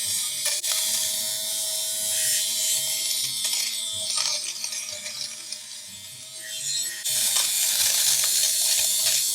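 A buzzing PEIYUU electric fabric shaver whirs steadily at close range, with a harsh rasping texture as it cuts through pilling, briefly dipping and then surging again.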